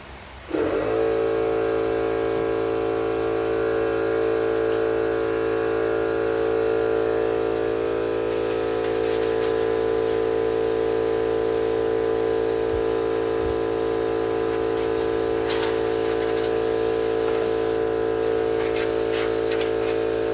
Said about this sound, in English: That's what happens when you have a battery-powered, cordless air compressor.